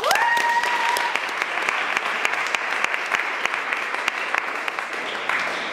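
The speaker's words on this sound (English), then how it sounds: "we should definitely give another round of applause for the Universal Declaration of Human" Audience applause after a student performance at Balboa High School, a dense, steady wash of many hands clapping at moderate loudness for the full stretch, with a brief sliding electronic tone near the start.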